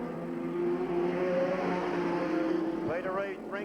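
A race car on a raceway track with an engine running rough and misfiring, a droning engine note that rises and wavers as the car passes, under a commentator's talk.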